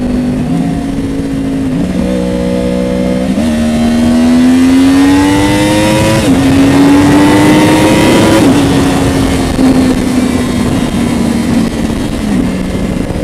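A Yamaha R1 sport motorcycle engine revs hard in first gear on a highway through rising gear-like pitch sweeps, loud and close, climbing steadily then easing off as it pulls away.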